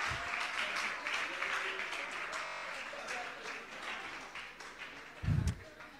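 Audience applause during a French youth football coaching session on setting discipline in a match, a steady broadband clatter of many hands lasting throughout, moderately loud, with a brief low thump near the end.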